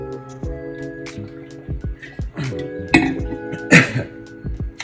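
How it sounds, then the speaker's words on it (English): A person coughs several times in quick bursts, close by, after drinking a pre-workout drink, with some light clinking of a cup or container in between. "I always cough every time."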